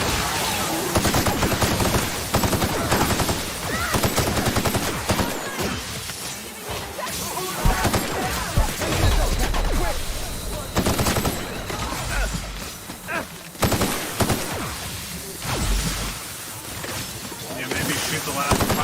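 Rapid bursts of video game gunfire and crashing impacts fill a mission where the last enemies are being shot down, loud and dense throughout, with a player's voice talking over the noise.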